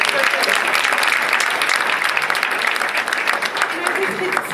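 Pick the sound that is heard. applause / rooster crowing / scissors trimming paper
applause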